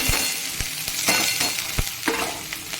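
Curry leaves, green chillies and onion sautéing in hot oil with mustard seeds and lentils for ragi semiya upma, a steady close sizzle broken by several sharp crackles and pops as the spices splutter.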